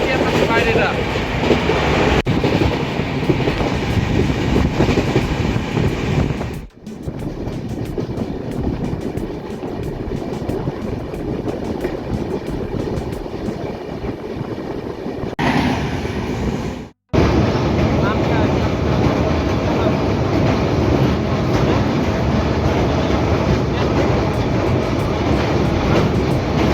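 The Purushottam Express runs at speed, filling the clip with a loud, steady rumble and rhythmic clickety-clack of wheels on rails that briefly dips twice before surging back.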